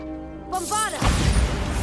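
Bombarda blasting spell in Hogwarts Legacy: a tonal magical whoosh swells for half a second, then bursts into a loud, broad explosion that rumbles and crackles to the end.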